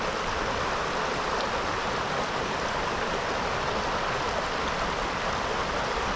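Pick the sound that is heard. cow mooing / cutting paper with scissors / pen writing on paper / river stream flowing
river stream flowing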